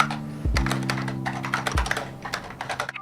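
Rapid, steady clatter of keys being typed on a split computer keyboard at a desk, heard close with a faint low hum underneath.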